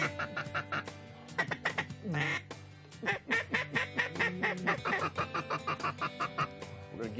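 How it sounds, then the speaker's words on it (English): Ducks quack repeatedly in a busy, overlapping chorus at a hunting spot in Land Between the Lakes, with rapid nasal calls coming close and loud through the whole stretch. "Oh, look at all these ducks coming from the Oh, south."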